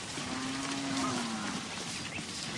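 A single cow moos, a long low drawn-out call that slides slightly downward, heard over a steady outdoor background hiss.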